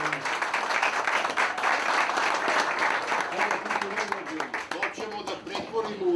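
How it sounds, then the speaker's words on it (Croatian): An audience at an evening restaurant event breaks into sustained, loud applause that holds steady for several seconds and tapers near the end, with a voice talking over the clapping. "jedan aplauz za njih."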